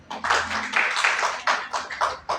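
An audience at a community meeting in Dungarpur district claps to welcome a village head, with a brief burst of scattered hand claps rising and falling for a couple of seconds.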